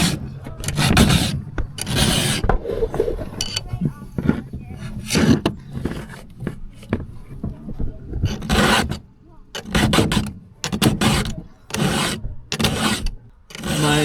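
Hand file rasping across the teeth of a dull chainsaw chain, repeated scraping strokes in bursts with short pauses between them, close and fairly loud.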